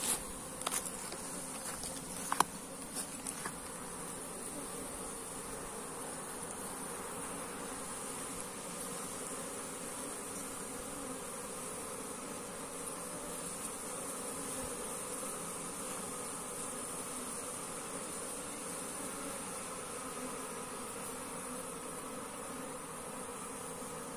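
A super bee colony being moved into a cultivation box after smoking, producing a steady, continuous buzz that holds even and unbroken throughout, with a few faint clicks near the start and no voices.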